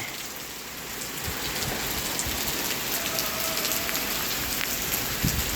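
Rain falls steadily on a surface nearby, a dense patter of drops with no talking.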